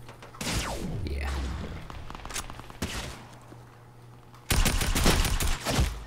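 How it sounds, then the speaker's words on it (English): Shotgun and other gunfire in a first-person shooter match: a loud blast opens, with scattered shots and mechanical clatter, then a dense burst of rapid gunfire near the end, sounding close and punchy. "Wait, that was the shotgun from 64 meters."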